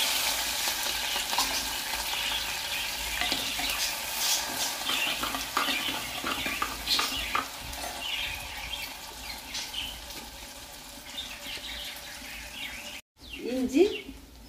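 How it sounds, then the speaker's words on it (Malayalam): Mustard seeds, dried red chillies, green chillies and curry leaves sizzle and crackle in hot oil for a ginger-tamarind curry, with steady frying, scattered pops and stirring, then a voice at the end. "കടുക് പൊട്ടിക്കഴിഞ്ഞു. ഇനി വറ്റൻമുളക്, പച്ചമുളക്, കറിവേപ്പില."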